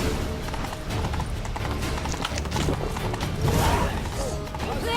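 Horse hooves clip-clopping in a steady rhythm while riding in The Witcher 3, with creaking tack and clattering mixed in under a busy game soundscape.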